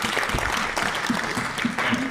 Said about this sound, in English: Let's give a round of applause to the wisdom officers and to Ms. Chetty for organizing all of this